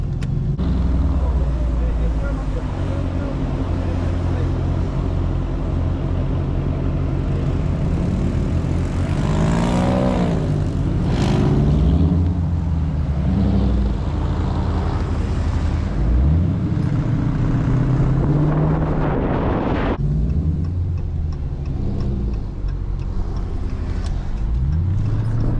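A Last Call Dodge Charger Scat Pack with the 392 engine drones loudly and steadily from inside the car, with a thin whine rising and falling as it pulls, while people talk over it.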